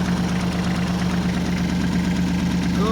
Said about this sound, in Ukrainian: Ось там є такий тракторець